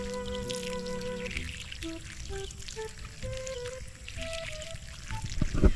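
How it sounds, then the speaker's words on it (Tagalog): Water trickles and drips from a leaking deep well discharge pipe, a soft, uneven run of drops and small pours heard close up, with faint tonal sounds nearby. "Tignan natin sa dulo dun kung tagas ba dito."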